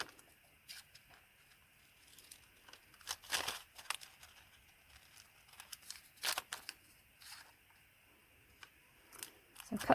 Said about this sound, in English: I'm just going to cut it out and make sure you're getting it exactly on the lines